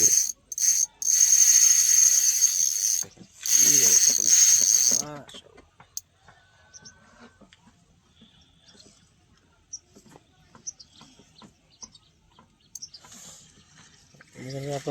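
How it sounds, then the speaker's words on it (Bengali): A fishing reel's drag or ratchet buzzing loudly in two long bursts as a fish pulls line on a river, followed by quieter clicks, scattered mechanical ticks and faint bird-like chirps. "সুন্দরভাবে মেশিনের টান দিতেছে, সুতা নিচ্ছে"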